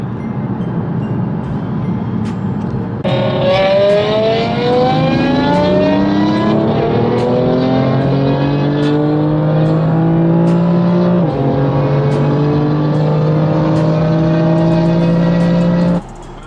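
A BMW M5 E60 and an M4 Competition accelerate hard on a night run, engine notes climbing steadily through gears with loud, sustained roaring, then cutting off abruptly.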